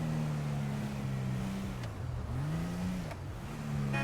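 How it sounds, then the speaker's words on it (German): Car engine in a GTA roleplay game, a steady low droning hum that dips and swells as the vehicle drives past close by, with no talking over it. "Ja, da kommt ein Auto."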